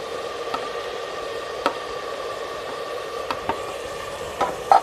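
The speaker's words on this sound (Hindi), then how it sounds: "मसाले को अच्छी तरह भूनते रहेंगे ताकि हमारा मसाला अच्छी तरह बन जाए।" Masala with green chillies and tomatoes fries in a pan with a steady, soft sizzle, broken by occasional scraping stirs of a spoon.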